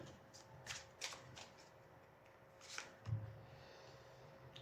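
Tarot cards being shuffled by hand, a handful of quick soft riffling bursts separated by pauses, close and quiet in a still room.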